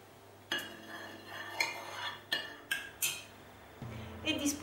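A spoon scrapes and clinks against a gratin dish as tomato sauce goes in, a series of about eight sharp metallic taps and scrapes, fairly close, with quiet gaps between.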